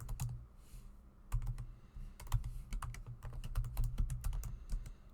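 Typing on a computer keyboard while entering an email address, with a quick run of sharp, irregular key clicks in bursts, close and clear over a quiet room hum.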